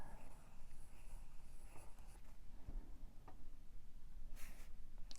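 A red Albrecht Durer pencil drawing on paper makes soft, close scratching strokes with small ticks between them, faint and uneven in rhythm.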